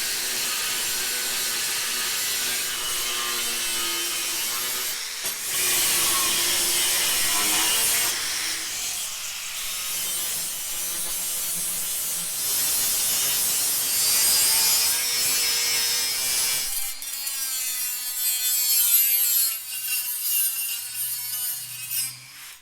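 Continuous harsh abrasive grinding and sanding of metal welds runs loud and close for over twenty seconds, with the pitch and texture shifting as the tool works the metal.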